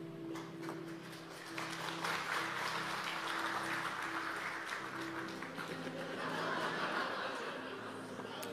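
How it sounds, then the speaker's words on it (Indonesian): A church congregation gives short applause with some chuckling and laughter over a sustained musical tone. The crowd sounds moderately distant and swells, then fades. "nah tepuk tangannya pendek."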